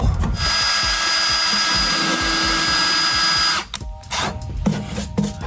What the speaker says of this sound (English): The first thing we're gonna do is drill our pilot hole.